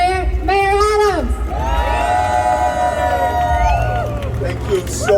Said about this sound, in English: Let's hear a huge round of applause for our New York City Mayor, Persian Mayor, Mayor Adams.